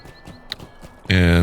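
Horse hooves while riding in the Lord of the Rings Online game, a few soft clops early under quiet background, then a loud sustained tonal game sound swells in near the end.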